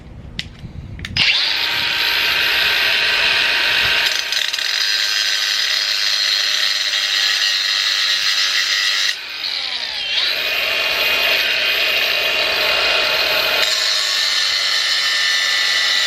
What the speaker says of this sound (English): I'm doing a cut on the tie rods now.